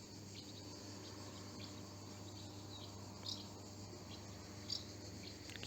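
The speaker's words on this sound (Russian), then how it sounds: "Какие-то насекомые стрекочут," Insects chirp outdoors by a hotel in Neum, Bosnia and Herzegovina, a faint, steady shrill background drone with a couple of brief brighter chirps.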